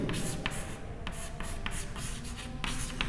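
Pen or marker scratching across a board while a geometry problem on circles is worked out, steady rubbing strokes with short bursts, close and fairly even, without talk.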